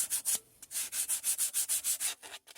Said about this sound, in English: So, time to get the sandpaper out.